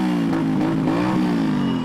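Motorcycles rev at the Sydney Mardi Gras parade, a loud, close throaty engine roar that rises and holds in pitch, filling the moment without voices.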